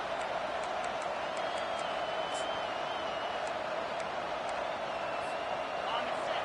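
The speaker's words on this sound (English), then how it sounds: "This crowd bringing the energy and noise early." A steady roar from a large stadium crowd, distant and continuous, with faint whistles and scattered shouts rising above the din.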